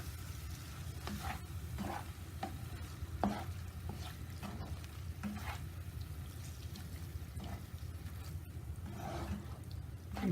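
Fajita filling stirred and mixed in a hot pan with a flame, a steady close sizzle carrying repeated scraping strokes of the spoon throughout, no voices.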